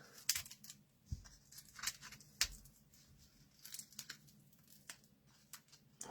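Sticky scissors snip and tear at craft kit packaging, a few sharp cuts and crinkles spaced irregularly, quiet and close with no voices.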